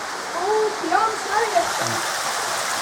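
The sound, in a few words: flowing stream in a gorge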